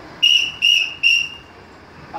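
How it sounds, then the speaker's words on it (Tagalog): A child blows a small whistle, giving three short, shrill blasts in quick succession, close and loud, followed by quiet. "doon mo ngayon gagamitin ang pito"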